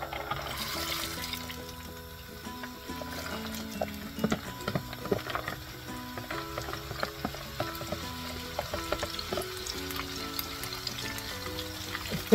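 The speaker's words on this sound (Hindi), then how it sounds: "अब हम डालेंगे अपने चने की दाल।" Chana dal is tipped into hot oil for frying for homemade nimko, giving a soft, steady sizzle and crackle with a few light clatters, fairly quiet under gentle background music.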